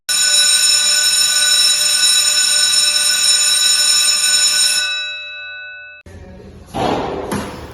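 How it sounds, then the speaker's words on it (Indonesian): An electric school bell rings loud and steady for about five seconds to signal the start of class, then stops, followed by brief rustling and thumps. "Bel masuk pun berbunyi."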